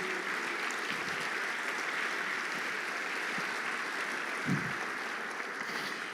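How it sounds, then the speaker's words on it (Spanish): Congregation applauding in a church service, a steady, fairly distant wash of clapping from many people that holds evenly throughout, with a brief low thump partway through. "Dele un fuerte aplauso al Señor Jesús."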